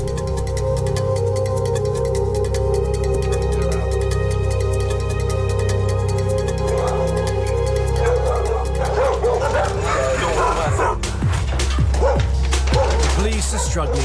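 Several dogs guarding a gang property in Belize bark, yip and whimper in a chaotic mix over a steady low hum, with people talking in the background.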